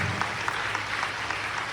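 A church congregation applauding, a steady wash of many hands clapping together at moderate loudness, heard from within the room with a low hum underneath.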